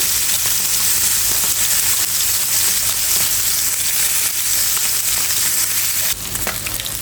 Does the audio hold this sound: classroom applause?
no